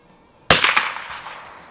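A single sharp rifle shot from an H&R M12 firing Federal ammunition at a target, loud and close, with a sudden crack followed by a decaying echo tail.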